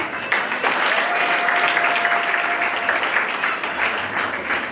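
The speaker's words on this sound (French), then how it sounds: "Je voudrais que vous vous acclamiez pour votre disponibilité." An audience at an award ceremony for a prize of excellence applauds steadily, a dense, even wash of clapping from many hands that continues for the whole stretch with no voices over it.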